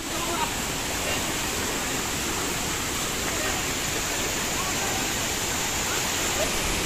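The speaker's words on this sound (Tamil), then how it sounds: "அந்தளவுக்கு ரொம்ப ஃபோர்ஸாக வந்துட்டு இருக்கு தண்ணி" Forceful stream near Dudhsagar waterfalls on a trek, a dense, loud, unbroken rush of water filling the whole stretch with no pauses.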